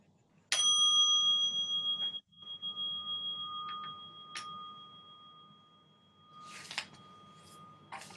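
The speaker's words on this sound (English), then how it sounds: "as I ring the bell." A single bell is struck at the opening of a worship gathering, giving a bright ringing tone that decays slowly over several seconds amid near silence, with a couple of faint taps after it.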